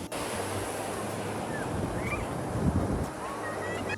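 Sea waves wash onto a beach in a steady, broad roar, with wind buffeting the microphone and a brief swell of surf near the end.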